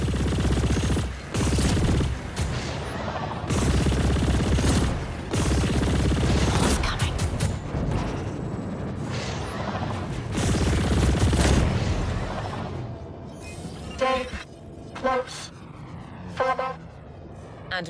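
Corrupted turrets open fire in the sci-fi space game Chorus, a loud, dense barrage of blasts that runs almost nonstop, then breaks up into scattered sharper shots near the end.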